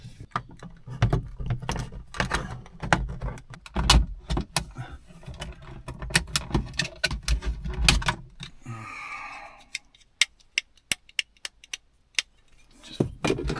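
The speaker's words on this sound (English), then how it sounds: "You can hear, you just kind of rattle with me just touching them." Loose plastic trim clips rattling inside a 2026 Honda HR-V, sharp clicky taps and clattery bursts coming in irregular clusters, close and fairly loud, with a brief rustle partway through.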